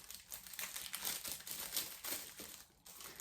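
Plastic packaging from an online haul is rustled and crinkled during unboxing, a steady run of close, soft crackles and rustles that lasts the whole stretch with no speech.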